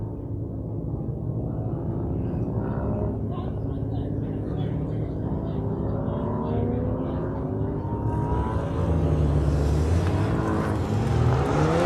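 Subaru BRZ in the East Street Super class finishing an autocross run at Auto Club Speedway, its engine revving steadily up close with rising and falling pitch sweeps, while voices murmur underneath.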